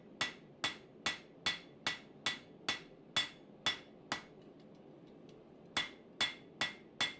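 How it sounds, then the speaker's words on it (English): A hammer strikes hot spring steel on an anvil during forging. The ringing blows come in an even rhythm, about two per second, pause briefly, then resume. The sound is close and clear, with no talking. "This spring steel is tough and it doesn't move very fast under the hammer"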